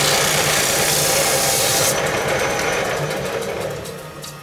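Palm tree wood spins on a wood lathe as the tool parts it off, giving a steady loud whirring hiss and scraping that drops in pitch and eases toward the end.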